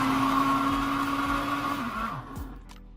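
A kitchen blender pulses a ginger mixture, whirring with a steady high hum for about two seconds before winding down and stopping, close and loud.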